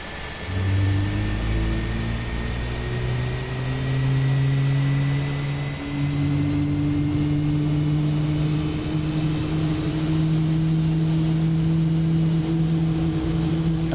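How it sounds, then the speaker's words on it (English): An Airbus airliner's number 2 engine spools up during start in Microsoft Flight Simulator, a loud steady turbine drone with rising whining tones that climb and settle over about fourteen seconds, heard alone without talk. "And then we're going to start engine number 2."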